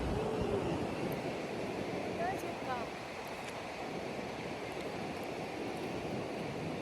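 Surf washes steadily along a very large beach at a resort, a soft continuous roar mixed with wind, faint and unbroken throughout.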